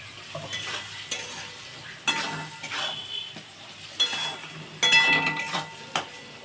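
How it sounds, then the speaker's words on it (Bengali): Spices, salt and chilli powder fry with onion and tomato in a pan while a spoon stirs. Irregular clinks and scrapes ring out over a constant close sizzle. "আচ্ছা একটু নাড়বো এখানে।"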